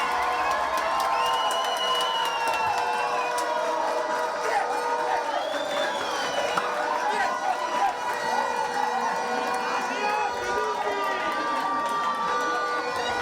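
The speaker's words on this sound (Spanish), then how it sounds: "Entre canticos, banderas y aplausos, la afición española en Guatemala vivió con emoción el pase de la Roja a la gran final del Mundial" Spanish football fans at a Spanish club in Guatemala celebrate Spain reaching the World Cup final with a steady roar of crowd noise, shouts and whoops, plus some chanting and clapping throughout.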